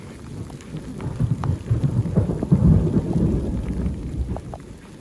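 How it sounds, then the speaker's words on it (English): Rain falling outdoors by a lake on the Pacific Crest Trail near Vermillion Valley Resort in windy weather: a steady, close rushing wash with a deep rumble that swells midway and eases, with scattered drop ticks and no voices. "it's raining"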